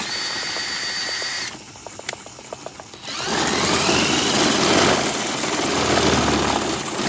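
Drill-powered DIY pedal cart running in second gear: a loud, steady whine rising in pitch as the drill motor spins up and holds, coming in after a quieter stretch of faint clicking and whirring.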